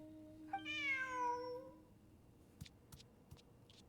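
A cat in Genshin Impact lets out one drawn-out, rising-then-falling meow that stands out clearly in the game. A few soft clicks follow over quiet background music.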